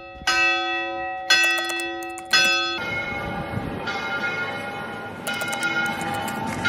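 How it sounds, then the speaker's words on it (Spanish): Church bells ring in Valencia, Spain, with several resonant clangs spaced a second or so apart, each leaving a long ringing decay, over a murmur of street noise. "Campana por aquí, campana por allá."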